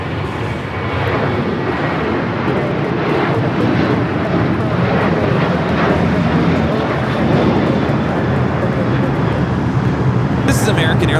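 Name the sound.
American Airlines Boeing 737-800 taking off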